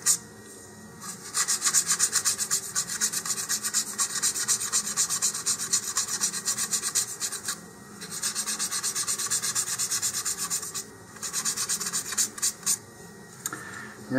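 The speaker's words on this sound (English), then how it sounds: "I'm going to sand off the little nubbins here that were left from the laser cutting process." Laser-cut parts of an Estes Twin Factor model rocket sanded by hand. Steady, close rasping strokes keep up in long bursts, with a few short pauses between them and no talk.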